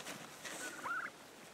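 A faint turkey gobble warbles briefly in the distance over a soft, steady background hiss.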